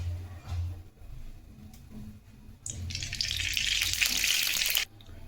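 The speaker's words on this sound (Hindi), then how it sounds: "अब हमने कढ़ाई चढ़ा दी है। कढ़ाई हमारी गर्म हो गई है। अब हम तेल डालेंगे।" Oil poured into a hot kadhai for jackfruit kofta, a bright hiss and sizzle rising suddenly and holding loud for about two seconds before cutting off, after quieter kitchen clatter.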